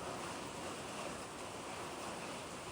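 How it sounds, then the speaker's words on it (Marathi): Steady heavy monsoon rain in the Konkan countryside, a dense continuous roar with no gaps, filling the whole scene closely and evenly with no voices. "पाऊस बघा आवाज ऐकताय हा असतो कोकणातला पाऊस"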